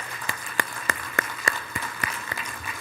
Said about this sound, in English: And one more round of applause, because they ended right on time.